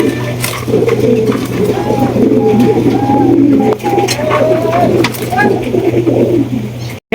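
A pair of Danish pigeons coo in a repeated, throaty warble close by, with someone talking over the birds almost throughout and a steady low hum underneath.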